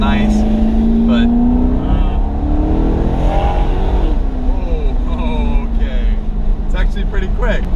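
Maserati GranTurismo MC engine pulling toward high RPM, a loud rising engine note that climbs steadily, with someone talking over it.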